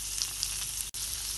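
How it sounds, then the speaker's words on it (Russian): Chopped garlic sizzles in melted butter in a hot frying pan, a close, bright, continuous crackle with one momentary dropout near the end. "На разогретую сковороду отправляем сливочное масло. К маслу добавляем рубленый чесночок."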